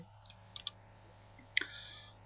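Quiet, sharp clicks of keys pressed on a computer keyboard, a few scattered taps ending in a slightly firmer press near the end, with a low steady hum underneath and no talking.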